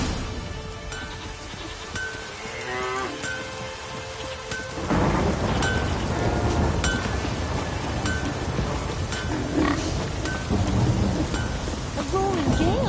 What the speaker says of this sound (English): A roaring gale.